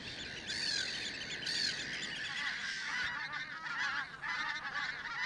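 Large flocks of wintering geese and other birds on the Dee Estuary honk and call continuously, many overlapping voices forming a dense, lively chorus at middle distance with no talk.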